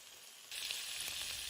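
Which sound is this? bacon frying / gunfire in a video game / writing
bacon frying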